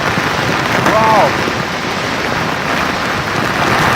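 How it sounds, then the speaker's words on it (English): Heavy storm rain roars down beneath waterfalls atop Auyantepui, a loud, dense and unbroken downpour with a short voiced exclamation near the start. "Storm-like conditions suddenly erupt under the falls."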